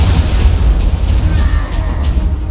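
A grenade explodes in an online shooter video game, a loud, sustained low boom that rumbles steadily for a couple of seconds and fills the mix.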